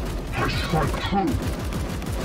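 Bursts of gunfire from Warhammer 40,000: Chaos Gate - Daemonhunters, a rattling fusillade mixed under game voices and effects at moderate level.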